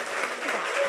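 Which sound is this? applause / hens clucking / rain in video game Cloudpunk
applause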